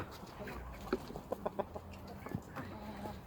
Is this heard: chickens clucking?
yes